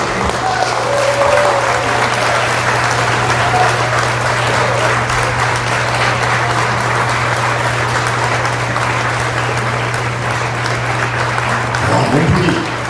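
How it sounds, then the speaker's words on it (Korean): A concert audience gives loud, sustained applause for a tai chi demonstration, with dense even clapping lasting about thirteen seconds over a steady low electrical hum. "여러분, 뜨거운 박수 한번 부탁드리겠습니다"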